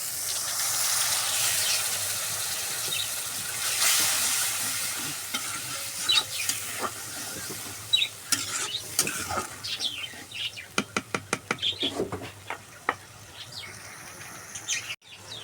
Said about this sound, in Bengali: এখন কষিয়ে নেব। মশলা দেওয়ার পর সামান্য পানি দিয়ে দেবো।